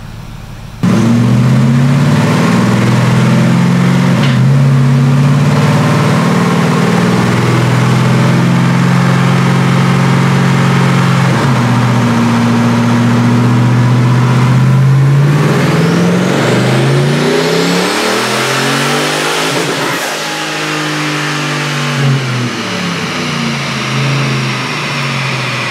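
A twin-turbo 2012 Harley-Davidson edition Ford F-150 engine revs hard on a dyno, rising through a long loud pull with climbing pitch, then easing off near the end; no talking.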